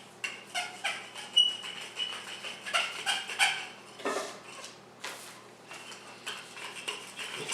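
Oat flour pie crust dough is rolled out on a counter, producing a faint series of soft, irregular rolling and tapping knocks with quiet gaps between them.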